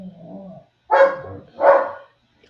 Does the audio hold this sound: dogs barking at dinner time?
yes